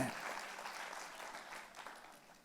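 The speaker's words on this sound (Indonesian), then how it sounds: "Tepuk tangannya yang paling meriah buat Yesus Tuhan kita." Congregation applauding for Jesus during a Christmas church service, a steady wash of clapping that starts strong and slowly fades over a couple of seconds, with no voices on top.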